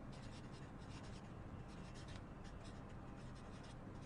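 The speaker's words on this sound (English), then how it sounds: "Let me write this down." Writing on a board during a university lecture produces a faint, continuous scratching and rubbing, quiet and steady, with no speech over it.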